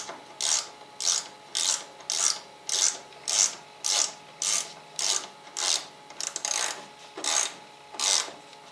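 A ratchet turns a 12 millimeter bolt on a panel of a Suzuki DR650 motorcycle during a battery change, giving a steady series of about a dozen crisp, evenly spaced ratcheting swipes, close up and alone.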